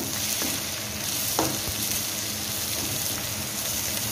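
Onions fry in a pan with mango pieces and dried bitter gourd while being mixed, a continuous close sizzle with a few faint scrapes and knocks.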